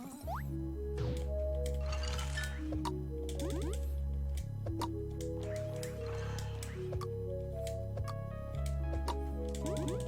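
A clicking sound in Bug Fables repeats as small, faint clicks and squishy drips over steady, loud tonal game music.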